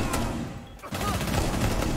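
Close, rapid gunfire from a Rainbow Six Siege practice match rattles almost continuously for two seconds, broken only by a brief gap, with a voice faintly present underneath.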